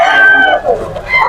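A young gamefowl stag crows at a market in Malolos, Bulacan, one loud, close, ragged call with a dip midway before a final rising burst.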